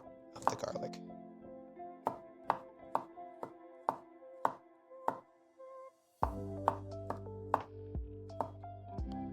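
Garlic is chopped with a knife on a board in a home kitchen, giving a dozen crisp, evenly spaced knocks. Partway through, a low steady hum kicks in beneath the cutting.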